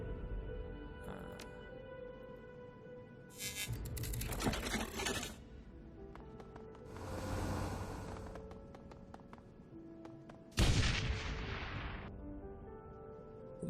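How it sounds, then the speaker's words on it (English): A loud burst of gas explosion and crackling debris erupts amid a busy stretch of effects in the video game Shadowrun: Hong Kong, with heavy rumbling bursts rising and fading. "As the sound of the gas explosion fades"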